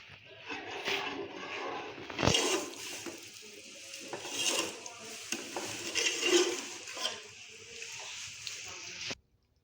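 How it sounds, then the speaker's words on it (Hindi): Garlic and onion fry for a tadka in a pan, a soft steady sizzle overlaid with close scraping and clinking of a spoon against metal before the sound cuts off abruptly. "ये हमारा जो है तड़के वाला जो लहसुन और प्याज है वो फ्राई हो रहा है यहाँ पे"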